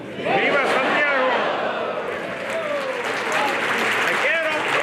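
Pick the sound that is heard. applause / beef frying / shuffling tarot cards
applause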